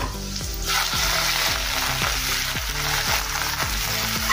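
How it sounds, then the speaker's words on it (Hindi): Chopped onions sizzling and frying steadily in a hot pan while being softened for a simple dal, a loud continuous crackle with rhythmic stirring scrapes and no talking. "प्याज को हम थोड़ा सा नरम करेंगे।"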